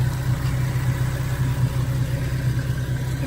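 A Nissan 370Z engine with its stock intake idles with a steady low rumble and hum, close by and unchanging, with no talking.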